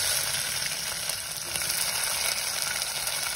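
About 100 grams of chopped small onions sizzling in hot oil, a loud, dense, continuous frying hiss close up with no talk.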